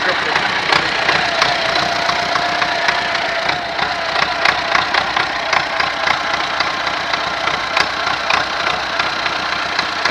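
An MTZ tractor engine idles roughly, with a steady mid-pitched drone broken by uneven knocking beats. It runs loud and continuous throughout.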